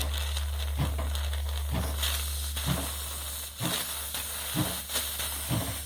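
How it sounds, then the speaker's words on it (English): Steady steam hiss from a live steam Shay two-truck G-gauge garden locomotive during its first steam test, a constant rushing hiss with a low hum beneath and soft rhythmic pulses roughly every second, close and alone. "So the steam is in the system. Now I open the steam pump."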